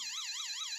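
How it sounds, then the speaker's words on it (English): A car alarm whoops in a fast, rising and falling electronic wail, loud, bright and alone, cycling several times in under a second. "so your car alarm's going off"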